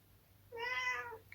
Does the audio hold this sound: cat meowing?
yes